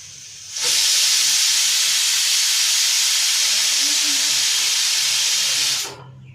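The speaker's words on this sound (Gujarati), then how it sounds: "આ કુકરમાં 1 વિસલ પણ થઈ ગઈ છે" A pressure cooker whistle releases steam in a kitchen while karela shaak is being made, a loud, steady hiss that starts abruptly, holds for about five seconds and cuts off sharply.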